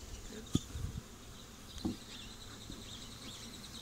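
Honey bees from a captured swarm buzzing in a front yard near a hive entrance, a steady soft insect drone with a couple of brief louder thumps and rustles close by.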